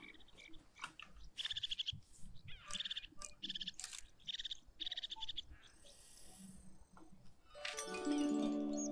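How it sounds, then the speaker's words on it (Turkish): Birds chirp in the wildlife video game Alba: A Wildlife Adventure, bright repeated tweets and calls in quick bursts, fairly faint, with a louder trilling call near the end. "Farklı kuşlar geliyor bak."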